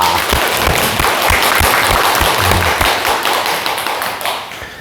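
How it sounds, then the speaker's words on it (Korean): An indoor audience at a morning talk applauds loudly, with dense, sustained clapping that slowly thins and fades slightly toward the end. "자, 여러분 큰 박수 부탁드립니다."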